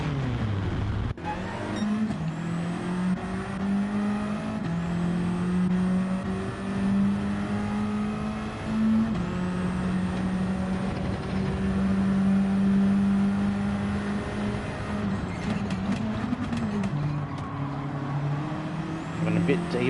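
TCR race cars in Gran Turismo 7 at the St Croix C circuit, with steady engine drones and shifting pitches as cars run close by, loud and continuous over twenty seconds.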